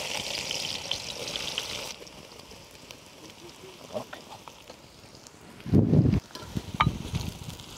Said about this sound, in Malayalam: ഇത് നല്ല ബ്രൗൺ നിറമാണ് വരെ നമുക്ക് വറുത്തെടുക്കാനുണ്ട്